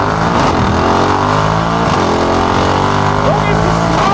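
A Hofmanufaktur-tuned Mercedes G-Class engine roars loudly on kickdown acceleration. The rising, throaty revving is close and fills the whole stretch.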